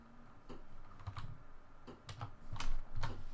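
Computer keyboard keys are tapped in short irregular bursts close by, quiet clicks clustered in quick runs with brief pauses between, no voices.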